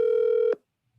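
A single telephone ring tone on an outgoing call sounds steadily for about half a second and then cuts off abruptly, leaving near silence.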